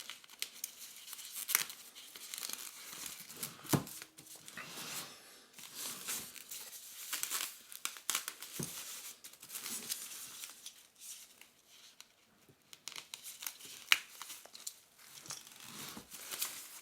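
Scissors cutting open a protective foam bag around a boxed watch winder, irregular close snips, crinkles and tearing scrapes in scattered bursts over a quiet background, with no talking.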